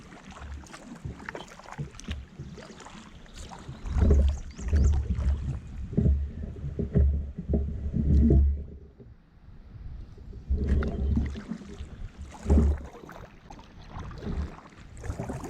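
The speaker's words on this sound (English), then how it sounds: "we've been going through some nice gentle rapids here" Water splashes and paddle strokes come in uneven bursts around a canoe moving through gentle rapids on the Little Miami River, with wind noise on the microphone and no talking.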